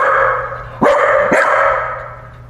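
A dog barking twice in quick succession, loud and close, over a steady background hum with no talk.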